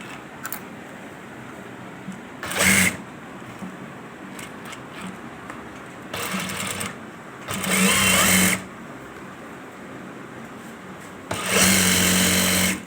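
A sewing machine stitches a men's shalwar in several short bursts, each a loud close whirring run of a second or so separated by quiet pauses, with the final run the longest.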